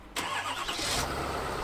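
A Ford PowerStroke truck engine cranks and catches in a quick start, then settles into a steady running drone, fairly close and alone.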